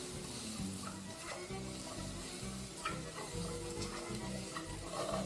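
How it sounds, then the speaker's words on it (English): Arrowroots sizzle in a pan with garlic and thyme while a spoon stirs them in a steady rhythm of close scraping strokes over a continuous frying hiss. "Just give that a quick stir."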